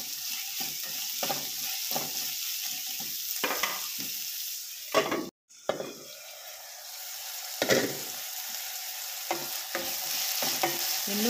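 Green tomato curry with curry leaves frying in a pan, a steady close sizzle broken by repeated scraping strokes of a spoon, with a brief silent gap midway.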